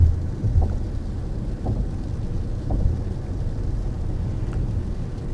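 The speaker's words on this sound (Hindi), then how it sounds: "बारिश जो है ना वो मज़ीद तेज़ हो गई।" Heavy rain pours steadily on a motorway in Sindh, Pakistan, with a dense constant roar and several low rumbles of thunder rolling through. No voices are heard.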